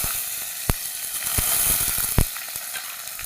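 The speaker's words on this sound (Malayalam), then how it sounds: "ഇതാ ലേശം ഓയിൽ ഒഴിച്ചു കൊടുത്തു. ഇതാ കടുകിട്ട് കൊടുക്കാം." Mustard seeds and garlic fry in hot oil for a bitter gourd dish, giving a steady close hiss with a few sharp, loud seed pops and faint clicks scattered through; no voices.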